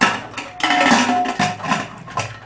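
A pressure cooker lid is closed on a pot of rajma curry in a home kitchen, giving a few close, loud metallic clanks and scrapes over about two seconds.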